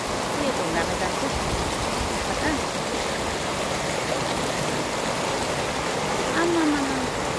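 The Mechi river rushing over stones, a continuous dense broadband roar of flowing water, close and steady throughout, with a faint voice briefly under it.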